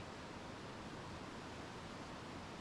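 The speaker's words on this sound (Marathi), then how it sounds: "पहा कशी नदी वाहते आहे." Steady, soft rush of a flowing river at Bahe Borgaon, Sangli, an even hiss with no breaks and no voices.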